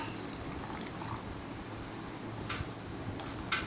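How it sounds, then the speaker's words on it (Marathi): Water is poured onto freshly grated coconut in a mixer jar while making Malvani solkadhi, a quiet, brief trickle and splash over a low background hum. "ओल्या नारळाच्या खोबऱ्यामध्ये पाणी घालून मी मिक्सरमध्ये वाटून घेत आहे"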